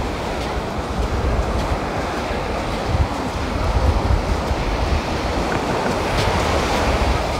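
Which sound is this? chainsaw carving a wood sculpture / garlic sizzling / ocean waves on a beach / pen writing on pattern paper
ocean waves on a beach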